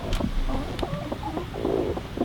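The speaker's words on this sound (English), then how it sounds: "We do have 3 broody hens and no rooster" Broody hens with no rooster clucking and low growling from their nest, a close run of short throaty clucks and grumbles in steady bursts.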